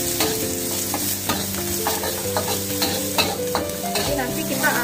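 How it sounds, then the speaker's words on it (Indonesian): Onions sautéing in butter in a pan, a constant sizzle broken by repeated scraping strokes of a spoon stirring, close and fairly loud with no talk. "kita akan tumis dulu bawang bombaynya sampai harum ya, dengan butter tadi"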